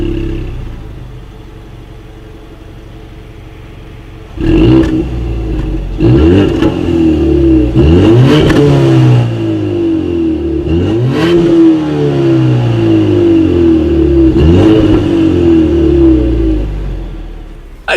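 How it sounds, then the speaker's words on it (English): Dual exhaust with chrome tips on a 2019 Ford Mustang EcoBoost, heard after a quiet idle as several loud revs that rise and fall in a series of close, booming sweeps. "you will find dual exhaust outlets with chrome tips, so you guys know what we have to do next. As always, here is that exhaust clip."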